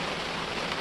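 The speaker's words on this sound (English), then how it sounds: "it doesn't look like it would be raining right now, but it's almost pouring" Heavy rain pours outdoors as a dense, steady hiss that stays loud and even throughout the short stretch, with no voices or other sounds rising above it.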